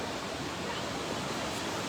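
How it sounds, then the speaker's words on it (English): Steady broadband wash of surf breaking on Wildwood Beach on a clear day, continuous and fairly soft, with no distinct individual wave crashes. "It is a fabulous day on the Wildwood Beach."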